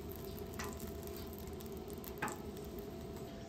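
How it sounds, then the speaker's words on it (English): Bread toasts in butter in a pan with a quiet, constant sizzle, broken by two short, soft crackles partway through. "A little butter down. And I'm just gonna toast one side of the bread."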